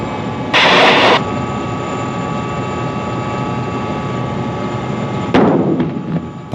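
A Mi-25 attack helicopter with paired engines roars close by, a sustained loud whine and rumble with a sharp burst near the start and another loud surge toward the end.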